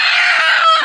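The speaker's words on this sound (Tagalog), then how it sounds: "Tandang." A rooster gives one close, loud, sustained crow, a short strained call that lasts under a second.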